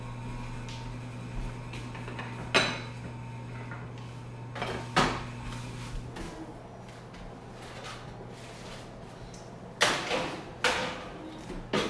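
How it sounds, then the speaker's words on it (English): A baking dish of gourmet mac and cheese with a sourdough crumb crust goes into a kitchen oven, marked by several sharp clunks and clatters of the door and rack against a steady hum. "I'll put this one in the oven"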